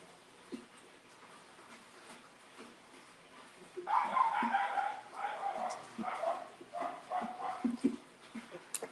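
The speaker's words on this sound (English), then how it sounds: "that's the next door neighbor's dog" A next-door neighbor's dog barks in a run of repeated yaps and woofs at moderate distance, starting partway through after a quiet stretch and continuing in uneven bursts.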